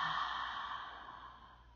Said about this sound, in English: Open your mouth and exhale it out.